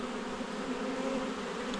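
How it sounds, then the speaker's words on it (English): Agitated honeybees in a disturbed hive hum in a steady, dense, close buzz that holds at an even loudness throughout. "You heard the bees get all excited."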